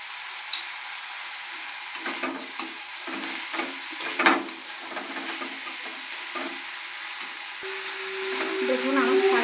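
Drumstick greens cooked with coconut are stir-fried in a pan, with a soft steady sizzle and bursts of scraping as they are turned. The frying rises slightly toward the end.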